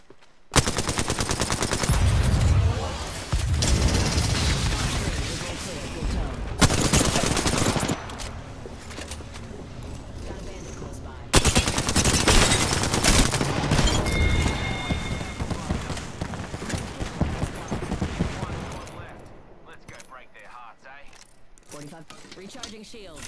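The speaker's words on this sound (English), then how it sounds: "Is somebody shooting at us?" Bursts of gunfire in a battle royale video game, sharp rapid shots in irregular clusters over a busy background of game noise, with players talking throughout.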